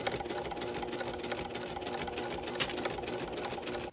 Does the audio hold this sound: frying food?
no